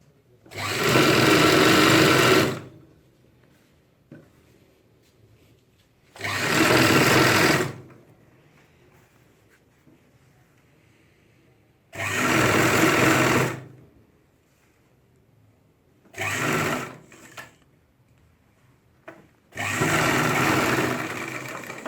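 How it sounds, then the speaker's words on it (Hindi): A sewing machine stitches a ladies' pant with a half-inch seam margin, running in five loud bursts of a few seconds each, separated by quiet pauses with faint handling noises. "आप इसको आधा इंच का मार्जिन लेके सिलाई लगाएं ऐसे।"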